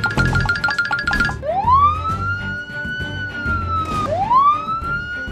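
A police car siren wails in rising sweeps, two long upward glides after a quick warble, loud and close, with some background clatter.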